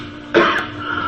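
A video game character gives a single short, sharp throat-clearing cough, loud and close, followed by quiet background hum.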